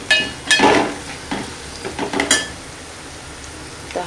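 Onion frying in a pan while Marathi dal tadka is cooked, a steady sizzle under scattered sharp clinks and scrapes of a spoon against the pan.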